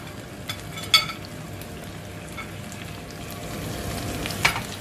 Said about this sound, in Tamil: நல்லா இருக்க கிண்டி விடுவோம்.